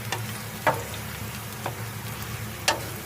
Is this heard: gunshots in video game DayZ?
no